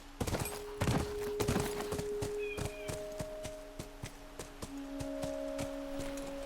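A horse's hooves while riding in The Last of Us (2013, PS4): a steady, rhythmic clip-clop of hoofbeats, moderately close, over a faint sustained tonal background.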